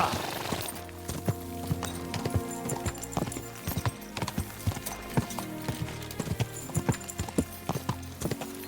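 Horse galloping in Kingdom Come: Deliverance 2, a quick, steady run of sharp hoof clops, with a neigh near the start and game music underneath.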